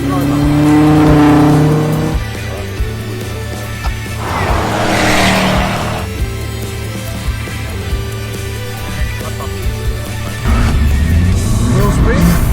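A Ferrari Roma engine revs as the car is driven, a loud, sustained engine note that rises and falls, with a brief tyre squeal and a heavier surge near the end.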